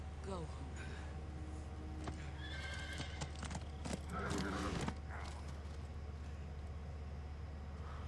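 A video game horse in Metal Gear Solid 3 whinnies and clops its hooves over a steady low in-game hum, with a louder burst of neighing midway and a voice talking under it.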